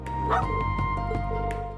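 A dog barks in the video game Trails Into Reverie, with a few short bow-wow yips over a steady hum of game music and ambience.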